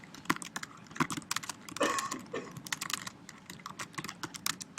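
Rapid typing on a computer keyboard, close and fairly quiet, with irregular bursts of key clicks and a short denser flurry near the middle.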